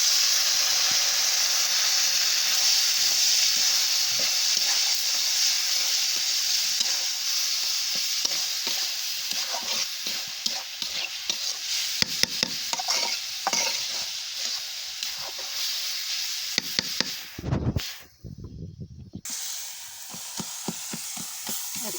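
Leafy greens frying in oil in a pan, stirred with a utensil: a constant close sizzle with frequent scraping taps, a brief interruption near the end, then frying resumes.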